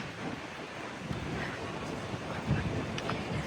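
Strong wind buffets the microphone in a constant roar on a Caribbean cruise stop at St Maarten, with surf-like rushing underneath and faint voices mixed in.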